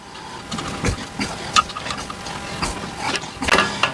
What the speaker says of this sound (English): You ain't got to go mad tightening these up because they are on a rubber washer.